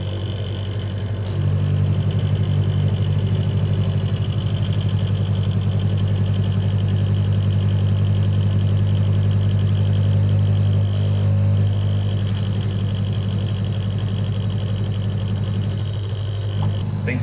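Steady electric filter pump motor humming at low pitch while hard cider is pushed through it, a constant drone with slight rise partway, with faint background noise and occasional voices.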